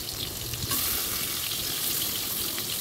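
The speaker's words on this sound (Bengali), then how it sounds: "এবারে আলুগুলোকে হালকা আঁচে ভেজে নেব লাল লাল করে" Potatoes fry in oil over low heat, a dense, even hiss of sizzling that holds steady close by, with no voices.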